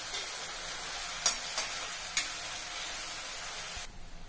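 Ginger garlic paste sizzles and fries in a pan while cooking a mushroom pepper gravy, a steady hiss broken by a few sharp stirring clinks, then quieter near the end.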